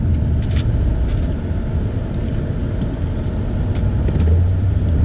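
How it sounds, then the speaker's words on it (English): A 2020 BMW M850i drives along the road. A steady, loud low engine and road rumble is heard from inside the cabin, with no voices. "The car drives well"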